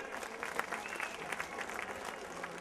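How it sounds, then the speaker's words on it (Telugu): An audience at a foundation event claps, a dense, even patter of many hands that holds steady from start to end at a moderate distance. "చప్పట్లతో వీరికి అభినందనలు"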